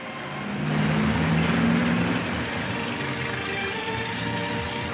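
A 1940s taxi car accelerates while following another car, the engine swelling into a loud steady rumble for about a second, then settling into an even droning run.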